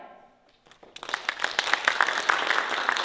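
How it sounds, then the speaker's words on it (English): Applause from a high school audience at a school play, rising from near quiet after a second into dense, steady clapping that fills the rest of the clip at moderate loudness. "Then you, their classmates, will answer and vote for them by applause."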